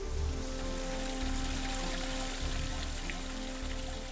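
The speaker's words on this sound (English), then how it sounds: "The water runs through these small holes into a tank where it's filtered through very fine sand." Rainwater runs steadily through small holes into a sand-filter tank beneath Venice, a continuous rushing, pouring wash that stays even and fairly loud throughout with no voices.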